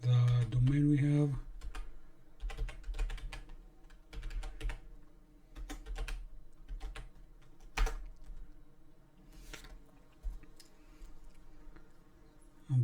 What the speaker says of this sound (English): We're gonna type the domain we have.